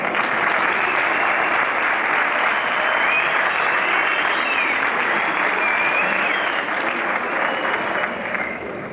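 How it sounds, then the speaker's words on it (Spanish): Sustained audience applause for the Ibarrakaldu dance troupe at a folklore festival dance day, a dense, steady wash of many hands clapping throughout, loud and close, with a faint voice and whistle-like tones over it. "Un aplauso para ellos"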